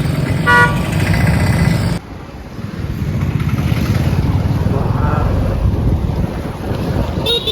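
Busy street traffic in Ghoghamba, with a loud horn toot at the start and then a steady rumble of motorcycles and vehicles passing close under wind noise, with some voices in the background.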